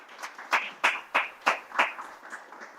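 Scattered clapping at a Scala programming conference talk, about eight distinct claps in an uneven rhythm, fading toward the end, from a small part of the audience.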